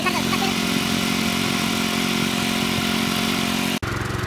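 A garden tiller's small petrol engine runs steadily, a loud close droning hum with a buzzy tone throughout, dipping abruptly near the end before continuing; someone speaks over it.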